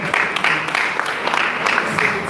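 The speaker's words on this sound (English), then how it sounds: "Please let's give a round of applause." Audience clapping at a medical students' association meeting opening ceremony, a steady moderate wash of applause from a crowd filling the room.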